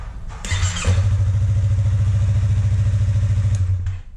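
A motorcycle engine cranks and catches after a tank air hose has been detached, then idles steadily with a loud, close, even throb for about three seconds before cutting off.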